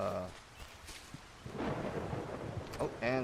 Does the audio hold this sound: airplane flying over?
no